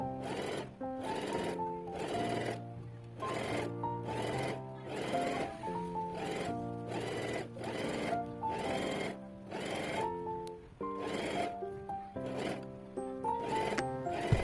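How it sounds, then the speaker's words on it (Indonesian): A sewing machine stitches holes into curtain fabric, running in steady repeated bursts of rhythmic motor whir and needle clatter, close and clear with short pauses between runs. "Selanjutnya kita akan jahit untuk membuat lubang."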